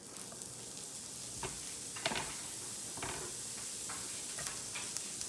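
Onions sizzle in cooking-grade olive oil in a pan with a continuous soft hiss and crackle, close and quiet, broken by a few brief stirring taps.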